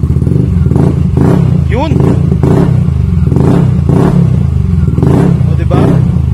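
Rusi Adventure X 150 motorcycle fitted with a Yoshimura R11 open pipe, revving close and loud in a steady rhythm of repeated throttle blips over a rough, deep idle, with someone talking over it.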